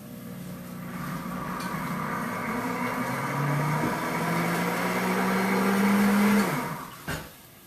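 A blender runs a self-cleaning cycle, a steady whirring motor hum with a rising tone for several seconds before it winds down and stops.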